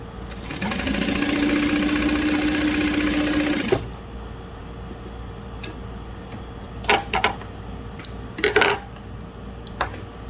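A Juki DU-1181N top-and-bottom feed sewing machine sews glitter vinyl in one steady, fairly loud run of about three seconds with a rising motor hum, followed by quiet and a few clinks and handling taps.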